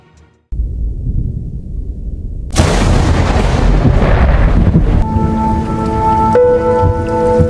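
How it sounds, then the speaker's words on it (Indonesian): Night storm with heavy rain: a quiet moment gives way to steady downpour, then a loud crack of thunder and a broad roaring wash of rain, with a sustained tonal hum joining near the end. "Saat malam disertai badai datang"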